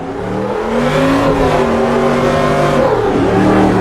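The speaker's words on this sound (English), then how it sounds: "As you can see, the brake squeals quite a bit. The tires make a lot of noise." A stadium super truck in the Automobilista 2 racing game roars loudly with sustained engine drone and shifting tonal whine, likely brake squeal and tire noise blended in, with no talking.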